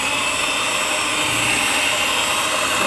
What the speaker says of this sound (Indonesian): Lalu kita mixer lagi ya